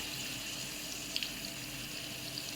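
Steady hiss of water rushing out under pressure from a Vaillant boiler's pressure-release valve, continuous and fairly quiet, with a couple of faint clicks partway through.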